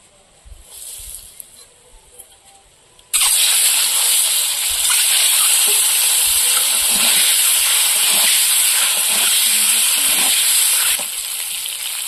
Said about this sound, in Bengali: বেগুন ভাজা তেলে হলুদ আর লবণ দিয়ে ডিমগুলো ভেজে নেব।